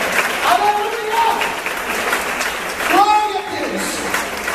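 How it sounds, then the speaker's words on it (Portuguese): Congregation applauding in an evangelical church service during a sermon, a steady wash of clapping throughout with voices calling out over it. "Você pode aplaudir o Senhor por isso?"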